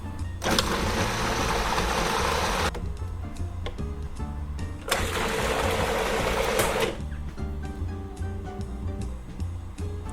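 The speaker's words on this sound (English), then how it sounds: "we're gonna puree this until smooth and creamy" A blender purees a sesame miso sauce with cardamom and dates, running in two loud whirring bursts of about two seconds each over steady background music.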